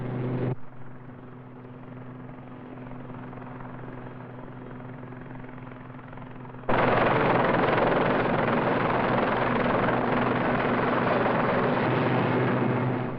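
A small shipborne naval helicopter of the Fleet Air Arm flies with a steady rotor and turbine drone, which jumps suddenly louder midway and holds there.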